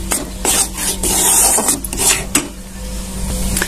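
A utensil scrapes and stirs maida flour as it roasts in ghee in a pan. The strokes are loud, close and rhythmic, with gritty rasping sweeps and occasional metallic clinks.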